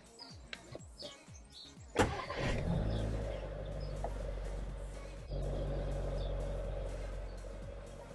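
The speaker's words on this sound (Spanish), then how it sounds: "Vamos a arrancar para ver las revoluciones del motor" A 2022 car with a wireless CarPlay box plugged in starts up: a few clicks and chimes, then a sharp crank as the engine catches and settles into a steady idle with a slight rev, heard close from inside.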